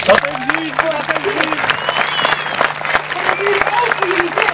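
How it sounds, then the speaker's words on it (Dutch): An audience at a 2014 tournament ceremony gives dense, sustained applause, loud and close, with many hands clapping continuously and a voice talking over it. "En dan wil ik nog een enorm applaus."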